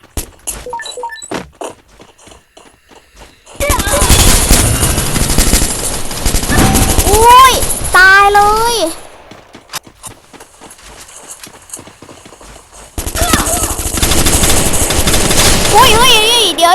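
Gunfire from the video game Free Fire comes in two long, dense bursts of rapid automatic shots, loud and close, separated by a quieter stretch with scattered single shots and game effects.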